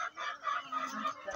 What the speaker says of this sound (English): welcome to my chicken coop